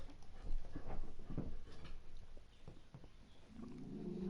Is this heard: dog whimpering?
yes